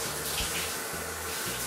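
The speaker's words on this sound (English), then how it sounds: "I'll first rinse you off." Steady running water pouring into a bath while rinsing off, a continuous close splashing wash with no pauses or talk.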